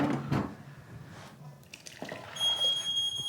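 Smoke alarm set off by steam while cooking an asparagus dish, its high piercing electronic beep starting partway through over kitchen clatter and running water.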